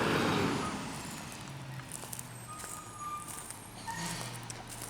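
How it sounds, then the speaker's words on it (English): A garbage truck on a recycling collection round, heard outdoors beside a garden as a steady low engine rumble with hissing air-brake and mechanical bursts, fairly distant and continuous throughout. "the garbage truck has to come today for recycling"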